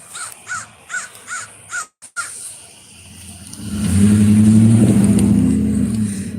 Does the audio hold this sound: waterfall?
no